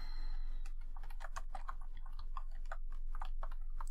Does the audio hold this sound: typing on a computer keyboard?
yes